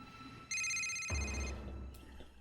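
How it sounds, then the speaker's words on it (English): A telephone rings with a steady, bright electronic trill for about a second, then gives way to a low rumble and a short second chirp, set in a tense political thriller scene. "Senator, please, answer this phone."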